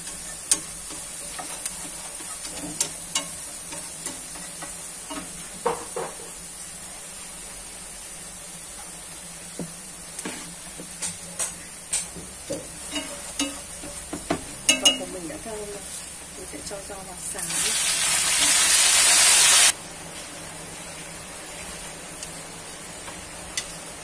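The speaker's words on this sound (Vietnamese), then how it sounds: "giò hàn được chiên xào nóng" Water spinach with garlic is stir-fried in a pan: scattered light scrapes and taps of a utensil over a low background, then a brief surge of loud sizzling hiss near the end.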